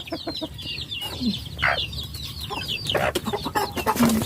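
Chickens, including a mother hen, clucking in a rural farmyard in the Philippines, with busy overlapping clucks and soft calls close by, plus a few brief rustling noises.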